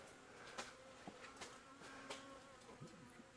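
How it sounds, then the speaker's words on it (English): Bees swarming around a nest inside a wall give off a steady, faint buzzing, with a few louder swells as individual insects fly close past. "Boy, those bees are getting active now."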